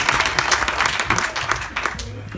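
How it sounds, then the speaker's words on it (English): Audience applause fills a lounge interview at the Music Meeting 2019 festival in Nijmegen: dense, steady clapping from a crowd with a few sharper bursts, sustained for the whole stretch before thinning slightly at the end. "You get a lot of applause."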